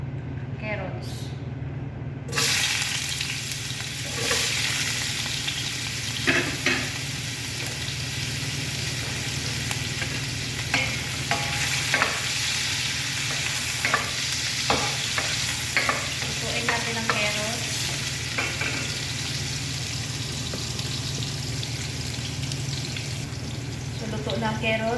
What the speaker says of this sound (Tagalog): Prituhin muna natin guys yung ating carrots.